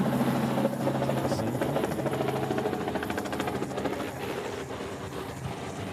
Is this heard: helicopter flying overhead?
yes